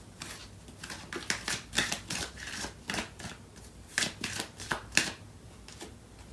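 Tarot cards being shuffled close up: a quiet, irregular series of crisp riffles and flicks, with short pauses between bursts and no talking.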